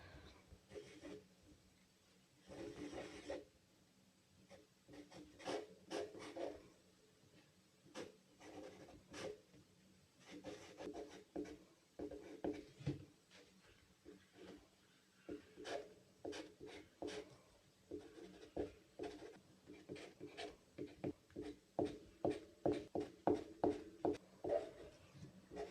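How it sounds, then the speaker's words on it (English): Pencil scratching across paper in short, irregular strokes, close and fairly quiet, growing quicker and denser toward the end. "It's very hard to sketch with these pencils."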